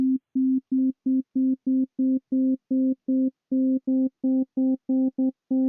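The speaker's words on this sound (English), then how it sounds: "we're making this sine wave a little bit more rich" A steady sine-wave synth tone from the Operator synth pulsing in rapid on-off bursts, a low fundamental with a few soft harmonics creeping in partway through, alone and fairly quiet.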